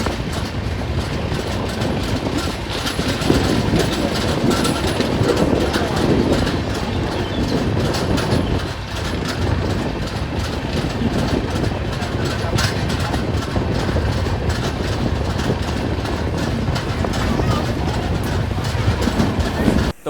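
A passenger train on the Darjeeling to Kolkata run, train 12042, rolling steadily on the rails through Bihar. A continuous loud rumble carries a rhythmic clickety-clack of the wheels throughout, with no clear talk.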